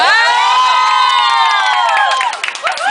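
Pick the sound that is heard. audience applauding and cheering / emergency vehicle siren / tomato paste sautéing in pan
audience applauding and cheering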